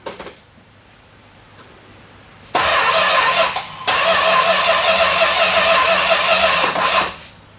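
A 1969 Plymouth Road Runner engine, left unstarted for about 40 years, cranks and catches at about 2.5 seconds, then runs loud and rough with a brief dip before roaring on steadily and cutting off near the end.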